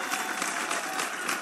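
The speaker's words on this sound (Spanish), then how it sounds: "Los aplausos que sean para ustedes." Applause from a small group at a surprise birthday serenade, a steady dense patter of clapping throughout, fairly close and moderately loud.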